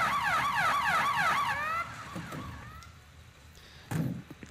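Modded ambulance siren in a video game: a loud, close wailing siren sweeps up and down rapidly several times, then fades into lower tones, ending with a short blunt horn blast.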